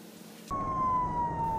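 A police siren suddenly starts, a loud steady wailing tone close by with slowly falling pitch, over traffic rumble.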